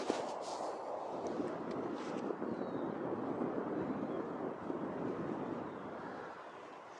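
Steady wind gusting across a golf course blows left to right, a continuous loud broadband rush with no voices.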